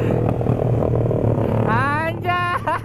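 A Honda Sonic 150R motorcycle engine running under a steady hum, then climbing in quick revving bursts near the end, with a rider's voice over it.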